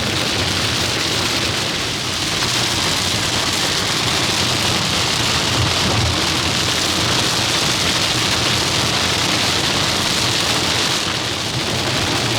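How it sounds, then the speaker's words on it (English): Steady heavy rain drums on a vehicle during a June summer road trip to Myrtle Beach, South Carolina, a loud, unbroken hiss lasting throughout with no talk. "this kind of weather, especially a lot of rain, is very normal in this season"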